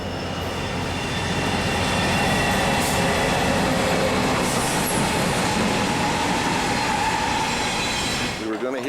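A train rolls past close by at a railside inn, a loud, steady rumble with clattering wheels and rail noise that holds for about eight seconds before cutting off abruptly near the end.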